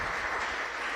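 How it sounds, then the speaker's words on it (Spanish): A church congregation breaks into applause during a sermon: a dense, sustained wash of many hands clapping at once, loud and steady for the whole moment. "¿Por qué no le da un aplauso al Señor en eso?"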